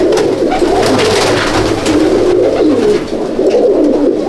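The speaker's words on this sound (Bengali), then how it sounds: "এই দেখুন এই একজোড়া ধাড়ি বিডার ফুলসিরা পেয়ার।" Pair of old-breed Madrasi fulsira pigeons cooing up close, soft low throaty coos rolling one into the next in an uneven rhythm, with a brief dip in the middle before the cooing resumes.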